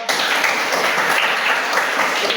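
Schoolchildren in a class clap in unison on a teacher's command, a loud, continuous wash of many hands clapping nearby, with no talking over it.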